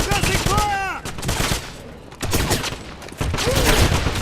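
Gunfire in the video game Wolfenstein (2009) during a firefight: repeated rapid shots in bursts, loud and close, mixed with shouted voices and whistling effects.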